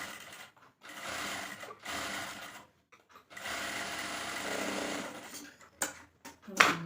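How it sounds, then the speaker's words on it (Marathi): A sewing machine double-stitches blouse fabric in several steady whirring bursts, separated by brief pauses and ending in a few short stitch runs. "डबल शिलाई मारायची"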